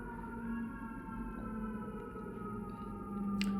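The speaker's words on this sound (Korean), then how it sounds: "미국 소방차 좀 요란하죠." An American fire truck siren wails steadily through the whole stretch, a long continuous tone that holds at moderate loudness and swells slightly near the end as the truck passes, with no talk over it.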